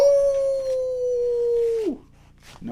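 A dog gives one long, steady, loud howl that holds its pitch for nearly two seconds, then slides down and breaks off, with a short rising whine at the end.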